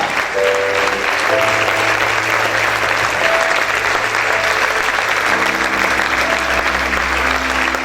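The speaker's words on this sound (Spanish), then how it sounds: "Recibe este aplauso, mi Señor." Congregation clapping in a church worship service, a sustained dense applause with instruments or sung tones held faintly underneath, fairly loud and even throughout.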